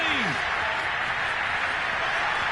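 Packed stadium crowd at Foxborough roaring for a New England touchdown, a sustained loud wash of cheering and applause with a whistle at the start, steady throughout.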